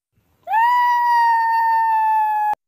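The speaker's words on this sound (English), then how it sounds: "let's try screaming and see what will happen" A single sustained, high-pitched scream from an animated character rises sharply, holds steady for about two seconds, then cuts off abruptly, loud and alone against silence.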